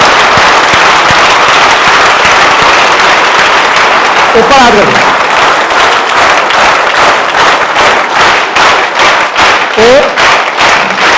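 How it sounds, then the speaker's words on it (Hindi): An audience applauds loudly for a student award winner, a dense, close crackle of clapping running throughout, with voices and shouts mixed in. "तो एक बार फिर से जोरदार तालियां बजा के भैया के लिए"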